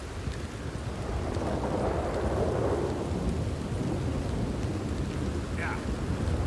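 Heavy in-game thunderstorm from Red Dead Redemption 2: loud, dense rain pouring steadily throughout with deep rolling thunder rumbling underneath, a continuous roar with no talk over it.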